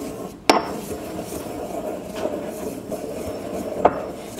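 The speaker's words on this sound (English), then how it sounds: "I'm gonna grind this thyme because I don't want anybody to feel it between the teeth when eating the soup." Dried thyme ground by hand for a Bermuda-style fish chowder, giving a steady scraping, grinding rasp with a couple of sharp knocks near the start and near the end, close up and without talking.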